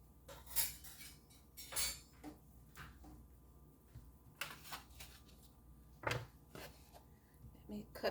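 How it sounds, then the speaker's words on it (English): A knife or utensil cuts into a hot cast iron skillet pizza with a chickpea-flour crust, giving faint scraping and clinking metal-on-metal strokes in short bursts while someone talks quietly. "Let me cut just a little piece since it's so hot"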